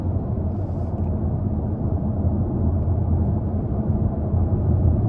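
A 2024 Jaguar F-Type P450 R-Dynamic accelerates, its engine a deep, steady rumble heard from inside the cabin, sustained and even without sharp revs or breaks.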